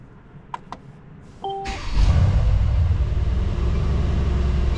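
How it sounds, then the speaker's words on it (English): Mercedes C63S engine cold-starting: a few faint clicks and a brief electronic chime, then the starter catches into a loud, deep rumbling idle that holds steady and close. "Cold start, boys."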